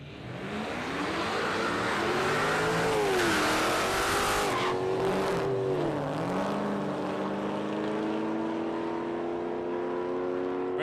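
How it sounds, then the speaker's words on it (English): A supercharged 5-litre FPZ GS Ute makes a drag racing run, its engine roaring loud and high, the revs climbing and dipping as the tyre spins, then holding a long sustained wail down the strip. "Good looking car, this thing. FPZ GS Ute Supercharged 5-litre."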